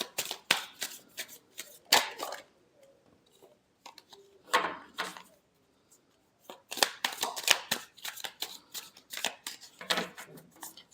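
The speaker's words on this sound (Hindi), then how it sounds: "Last shuffle." Tarot cards shuffled by hand in a final shuffle during an Aries weekly reading, quick riffling and slapping bursts with short gaps, close and fairly soft.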